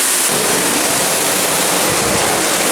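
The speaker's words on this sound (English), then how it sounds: "It's a really loud waterfall." A loud waterfall roars in a continuous, dense rush of falling water, close and unbroken, with no talking heard over it.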